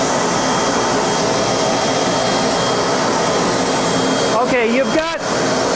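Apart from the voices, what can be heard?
4.6 horsepower regenerative blower motor running via home-built transformer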